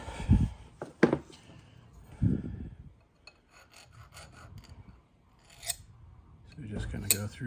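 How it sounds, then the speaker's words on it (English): A jeweler's file rasps across a freshly cut spline on a transmission part, giving a few short scraping strokes in bursts, close and fairly quiet, with low murmured speech in the background. "Here's my jeweler's file."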